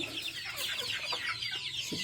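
Thai native backyard chickens clucking continuously at close range, a steady stream of overlapping clucks and calls from a farm flock with no talk.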